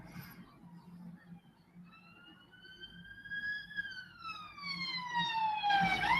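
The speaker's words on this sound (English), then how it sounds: "Hey, police car's going past." A police car siren passes by, its wailing tone climbing and then sliding down as it grows louder and nearer, over a steady low background hum.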